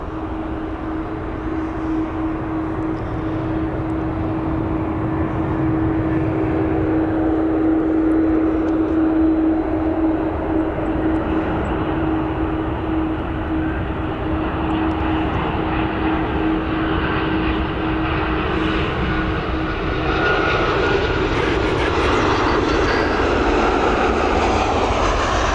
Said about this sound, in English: 777 before she begins her final taxi to the beginning of the North Runway.